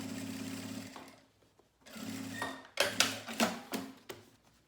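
A sewing machine stitches fabric for a manicure nail-polish pouch, with close, steady mechanical whirring runs broken by brief pauses, then a string of sharper stop-start bursts near the end.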